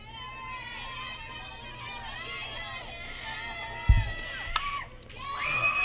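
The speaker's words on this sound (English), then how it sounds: "Crowd is definitely getting loud behind their pitcher." Crowd noise at a high school softball game swells behind the pitcher, a steady roar of cheering and shouting fans with voices throughout, building louder toward the end.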